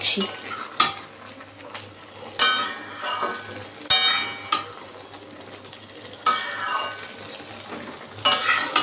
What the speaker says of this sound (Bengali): এবারে একটু ভালো করে নেড়ে নিই